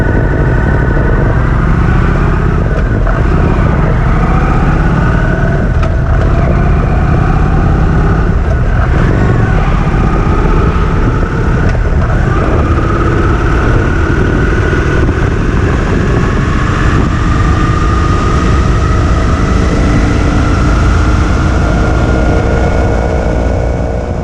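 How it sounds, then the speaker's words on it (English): A Kawasaki Vulcan 900 motorcycle engine roars loudly and steadily, its pitch climbing and then dropping back several times as it accelerates through the gears. No one speaks. "Listen to the sound of the engine as you watch it."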